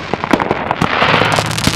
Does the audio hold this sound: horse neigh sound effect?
no